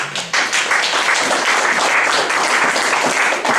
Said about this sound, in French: Est-ce que vous pouvez acclamer le Seigneur, s'il vous plaît?